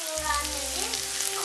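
A frying pan shaken over the heat while eggs are prepared for a Turkish breakfast dish, giving a steady close sizzle with a brief scraping swirl as the pan moves.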